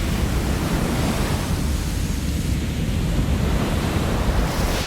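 Big ocean surf breaks from a surfing film. It comes across as a loud, continuous roar of crashing waves and wind rush with no voices.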